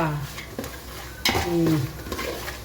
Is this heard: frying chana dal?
yes